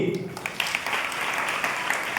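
Congregation clapping at a church service, a steady patter of many hands filling the space at moderate loudness, with a voice speaking over it near the start.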